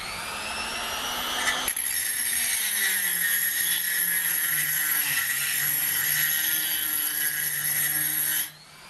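A HILDA 220-volt, 400-watt electric rotary grinder starts up after a brief whine, then runs with a sustained high-pitched motor whir and grinding hiss for several seconds before shutting off sharply.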